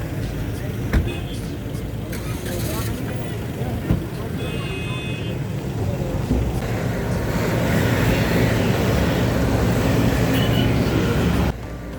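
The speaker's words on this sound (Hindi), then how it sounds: "देखो लाइनें लगी हुई हैं गाड़ियों की" Vehicles queued at a police checkpoint near Manali on the road to Atal Tunnel, a steady, loud engine rumble and traffic drone that grows fuller toward the end, with people talking over it.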